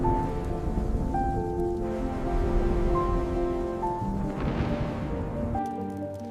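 Stormy night rain with rolling thunder, used as a story sound effect: a steady rain hiss under a low rumble that swells and fades, with a faint sustained musical tone layered above.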